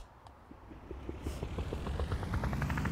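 Jet engine of an aircraft flying in the video game Wobbly Life, a steady droning roar that builds in loudness and holds continuously, with no talk over it.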